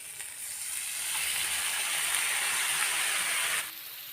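Washed, chopped spinach hits a pan of frying brinjal, setting off a loud, hissy sizzle that swells, holds steadily for a few seconds and then cuts off sharply, with no talking.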